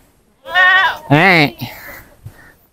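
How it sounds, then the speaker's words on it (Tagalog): A bought male goat, one of a male-and-female pair, gives two loud, close, quavering bleats in quick succession, followed by a few fainter, shorter calls. "Ito mga kaibigan yung kambing na binili natin."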